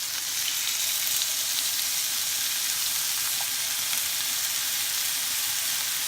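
Goose breasts sizzle and fry steadily in a hot pan just after being flipped, a continuous close crackling hiss with no talking over it.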